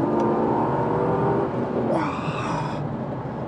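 A Mercedes E60 AMG W124 accelerates gently, its engine note rising briefly over a steady road rumble, heard from inside the car.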